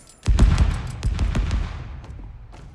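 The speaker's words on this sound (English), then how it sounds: "Splinter grenade out." A splinter grenade in the game Spectre Divide bursts into a quick rattle of sharp, rapid crackling pops up close, tapering off over a couple of seconds with no talk.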